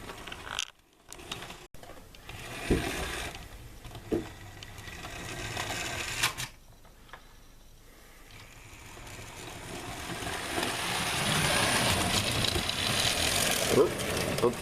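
The small motor of a Bachmann J39 model train whirs with a light clattering rattle on the track that builds steadily over the second half, close by, with brief bumps and pauses early on.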